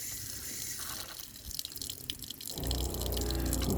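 Antifreeze runs out of an opened water valve on an RV being winterized, a light trickle that swells into a stronger, steady gushing flow partway through.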